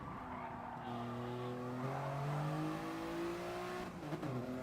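Race car engine in a racing video game, downshifting under hard braking into turn 1 at Interlagos, with rising and falling engine tones and a brief tire scrub near the end, loud and continuous.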